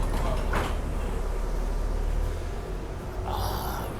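A city bus door mechanism hisses and slides open while boarding, over a steady low engine rumble, with a second burst of pneumatic noise near the end.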